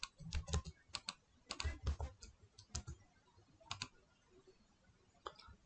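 Typing on a computer keyboard while entering numbers into a spreadsheet, with bursts of quick, close key clicks separated by short pauses, alone with no talk.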